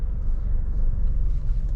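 MG Astor turbo car creeping forward on its own after the brake is released, heard from inside as a steady low engine and road rumble with no talk.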